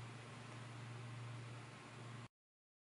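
A Black+Decker Dustbuster QuickClean cordless wet/dry handheld vacuum running close, a steady whirring motor hiss with a low hum that cuts off abruptly after about two seconds into silence.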